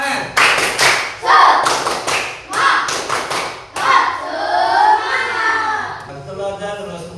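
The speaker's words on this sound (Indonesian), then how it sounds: "Yuk, tepuk semangat." A school class performs a rhythmic spirit clap, bursts of sharp, loud unison claps in a patterned beat with children's voices chanting along between and after the claps.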